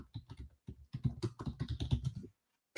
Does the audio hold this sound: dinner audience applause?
no